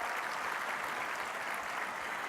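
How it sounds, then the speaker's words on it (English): Steady applause from a crowd, an even wash of clapping that holds at the same level throughout, somewhat distant. "Let's give them all a round of applause."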